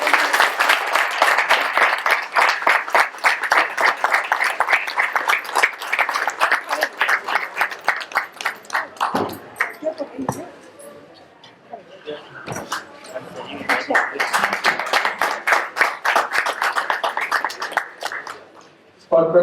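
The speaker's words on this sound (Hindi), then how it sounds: "जोरदार तालियां" An audience at a theatre production gives loud applause to the play's director as he is honoured with a shawl. Dense clapping runs strongly, dips into a brief lull around the middle, then swells again and fades out at the end.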